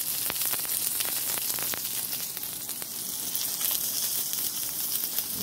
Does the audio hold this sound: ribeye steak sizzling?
yes